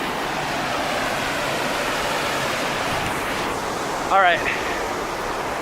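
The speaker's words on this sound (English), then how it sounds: "Cascade River is not flowing that hard" The Cascade River rushes with a constant broad roar, and a person briefly speaks over it near the end.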